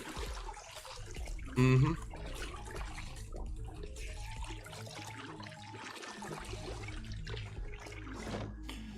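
Water splashes and trickles continuously while a character washes in the Project Zomboid video game, with a short louder gush early on and a person making a brief murmur.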